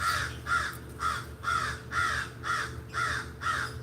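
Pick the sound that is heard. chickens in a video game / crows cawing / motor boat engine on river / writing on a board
crows cawing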